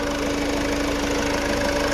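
A 2016 Ford Aspire Titanium diesel idles close by, giving a steady, even clatter and hum with a faint rhythmic knock and no change in pace throughout.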